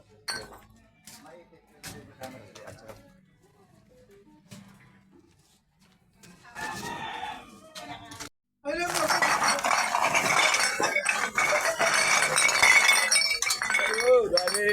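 Glass bottles clink and rattle in a loud, dense burst after scattered earlier clinks, as a junk collector handles a pile of empty liquor bottles, with people talking nearby.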